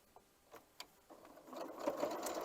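Sewing machine stitching a quarter-inch seam across two matched quilt triangles for a scrappy Irish chain block, a few soft taps first and then a steady whirring run that grows a little louder toward the end.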